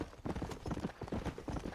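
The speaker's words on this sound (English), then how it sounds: "let me call my horse" Horse hooves clip-clopping in the western video game Red Dead Redemption, a rapid close galloping rhythm of heavy thuds over roughly two seconds.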